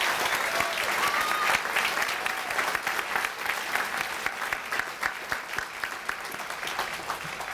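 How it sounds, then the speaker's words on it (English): At the Health Heroes 2017 awards evening, a crowd claps steadily for the finalists and winners, a dense, even applause heard at moderate distance throughout. "can we do one more round of applause for all the finalists and winners?"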